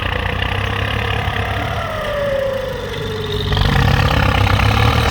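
A Ford 6600 turbo tractor engine runs close by with a steady, loud diesel rumble and a rising and falling turbo whine, the drone growing heavier near the end as the load changes.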